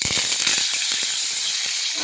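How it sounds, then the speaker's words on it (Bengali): Curry leaves hit hot oil in a kadai and burst into a loud, dense sizzle with rapid crackling pops over a couple of seconds. "কড়াইতে আমি একটা কারি পাতা দিয়ে দেবো"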